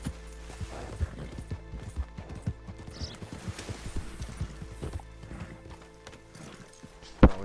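Horse hooves gallop in the Red Dead Online video game, a steady, fast clip-clop rhythm up close, ending in a sharp loud thump.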